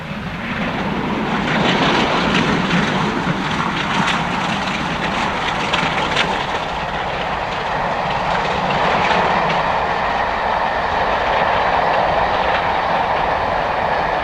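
Steam train passing close by, a loud, steady rumble and roar with clattering wheel noise that holds strong throughout, with no voices.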